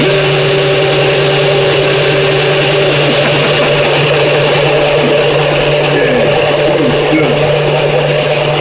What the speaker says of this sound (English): It's going to sound like a plane engine going off because the NutriBlender is directly below the